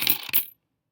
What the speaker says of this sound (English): I want to just take maybe a handful and try to sort these coins on the paper.